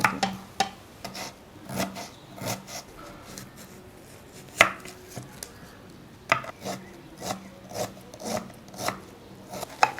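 A knife chops vegetables into small pieces for Mangalore bonda, giving irregular sharp taps on a cutting board with brief pauses and some rasping scrapes, close and clear throughout.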